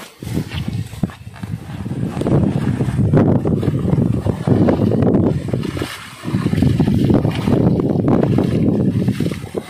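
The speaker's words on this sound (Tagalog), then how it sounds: "Mahangin." Strong gusts buffet the microphone outdoors, coming in heavy low rumbling waves with a short lull in the middle before surging back loud.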